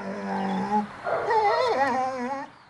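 Trained dogs on a mountain film set whimper and yelp in a rising, wavering whine that breaks into a brief howl, close and clear with no talk.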